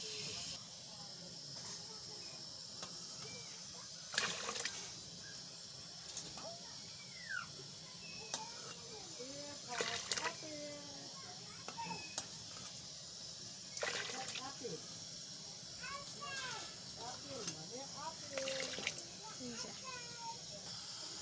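Potatoes boiling in water in a pot, a faint bubbling hiss with scattered pops and splutters, steady and close, with someone talking over it at times.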